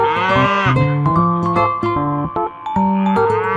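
A buffalo gives a long, low, drawn-out lowing call near the start, set against an upbeat instrumental tune that continues after it fades.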